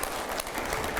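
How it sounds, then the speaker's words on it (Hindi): Studio audience applause on a Hindi political television show, a dense steady wash of clapping that fills the whole moment with no voices over it. "मैं पहले जोरदार तालियां हो जाए जरा इन सवालों के लिए"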